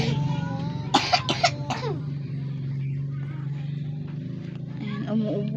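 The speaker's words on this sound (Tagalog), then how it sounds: "Ayan, umuubo-ubo siya eh." Ate Jana, a water buffalo, coughs three or four times in quick, rough bursts early on while a person talks over a steady low background hum.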